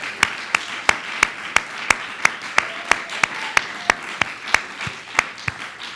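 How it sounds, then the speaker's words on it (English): Audience applause for the readers at a poetry and fiction reading and literary review party, heard as a steady run of evenly spaced, sharp claps over a soft room hush. "give a big round of applause for everyone who read today and for all the contributors"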